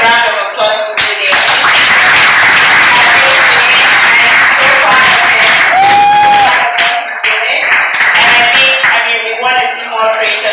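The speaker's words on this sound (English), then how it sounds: "I think let's give a round of applause to Ude." A crowd at a content creators' meet-up event applauds loudly and steadily, close dense clapping with cheers and voices mixed through it.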